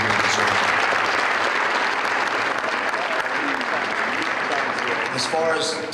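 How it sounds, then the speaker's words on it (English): A room at a press conference fills with sustained audience applause, dense clapping that holds for several seconds before thinning out, with a few voices calling out near the end. "So please give everybody here a round of applause"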